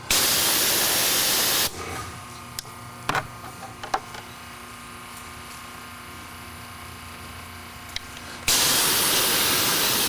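A pressure washer runs at around 1200 psi, its loud, broad hiss of spray starting and stopping in bursts, with a quieter mechanical hum and a few clicks between them.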